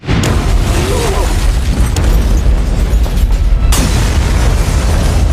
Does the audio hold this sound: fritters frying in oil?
no